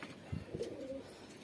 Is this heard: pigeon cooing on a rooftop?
yes